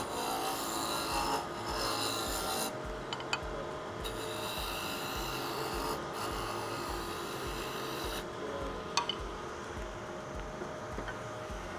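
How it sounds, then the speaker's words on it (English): Roughing gouge cutting cherry wood spinning on a lathe, a steady close-up rasping, scraping drone that runs continuously, with a few sharper catches and brief changes in tone as the tool shifts. "Roughing gouge."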